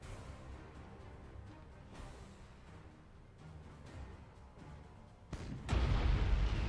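Warship main batteries fire in the Battlefleet Gothic Armada 2 space battle game: a low rumbling battle bed gives way to a sudden loud, sustained booming blast near the end.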